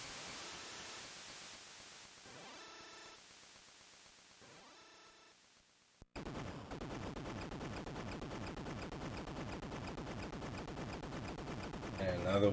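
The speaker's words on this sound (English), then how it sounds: "Just gonna explode so we can get out." An explosion in the Mega Man 5 video game, with rapid crackling bursts of chiptune blasts that give way to a sustained, loud static-like rumble of explosion noise running to the end.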